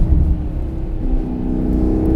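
A 2015 Maserati GranTurismo S engine revs from the cabin, a deep throaty roar that climbs in pitch and holds steady at mid revs, loud and close with no talk over it.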